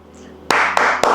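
Three sharp hand claps ring out close and loud, evenly spaced about a quarter second apart, each a crisp isolated smack with nothing else heard between them.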